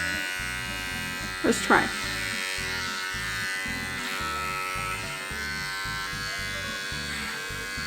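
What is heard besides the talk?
electric clippers trimming a guinea pig's hair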